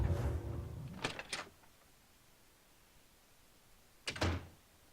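A door is forced open in the video game Oblivion: a heavy creak and clunk, two quick sharp knocks, then a quiet pause and one more thudding knock and rattle, near and clear.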